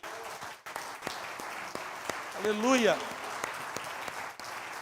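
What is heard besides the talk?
church congregation applauding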